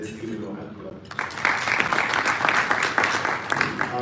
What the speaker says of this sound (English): Let's give it a hand clap.